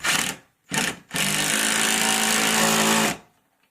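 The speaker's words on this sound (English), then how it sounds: "before we drill it down, let's get this in. This one's going into the stud." A power drill drives a screw into a wall stud in two short whirring bursts, then one longer sustained drive before stopping, loud and close.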